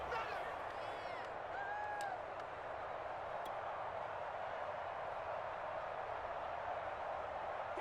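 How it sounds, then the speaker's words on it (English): A stadium crowd at an American football game makes a steady, fairly faint wash of cheering and roar, with a few whistle-like tones early on and a constant murmur throughout. "Crowd getting in it a bit already."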